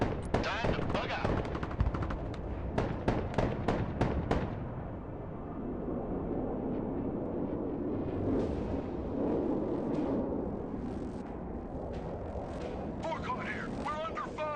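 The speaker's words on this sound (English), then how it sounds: "We're under fire." Rapid bursts of gunfire from the video game Broken Arrow crackle loudly over the first few seconds, then give way to a dense rumble of distant battle. Voices speak over the din.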